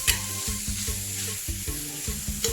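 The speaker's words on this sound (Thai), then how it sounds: "ผัดให้เข้ากันก็พอ" Minced pork and holy basil stir-fry in a hot pan with a loud, continuous sizzle, broken by rhythmic scrapes and taps of the spatula roughly every half second.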